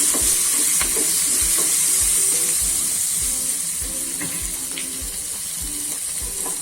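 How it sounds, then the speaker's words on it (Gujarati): Asafoetida and spices sautéing in a pan for a chilli recipe, giving a loud steady frying hiss with regular clinks and scrapes of a stirring spoon against the metal, close up with no speech. "આ રીતના આપણે સાતળી લેવાના છે."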